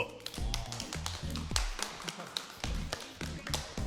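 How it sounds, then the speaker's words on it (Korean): A small group applauds four model students as they are welcomed at a Korean practical arts school: rapid, crisp claps in a dense flurry lasting a few seconds, close by, with a voice briefly audible. "박수!"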